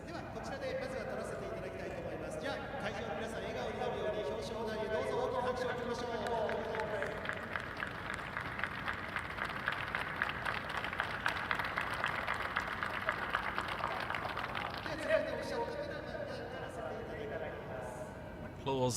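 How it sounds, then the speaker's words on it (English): Crowd applause for the Trofeo Pirelli top three podium at a Ferrari Challenge race at Fuji, Japan: steady, dense clapping over a long stretch, partly under a commentator's voice. "Applause given there to our Trofeo Pirelli top 3"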